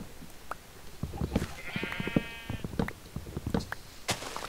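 Sheep bleat in the Minecraft video game, a single drawn-out bleat set among scattered clicks and footstep-like game sounds.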